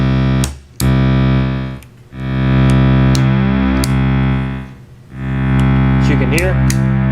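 Minimoog synthesizer under restoration plays sustained, buzzy analog tones while its mixer knobs are turned. The timbre and level shift, with a few brief dips between notes, and there is no talking.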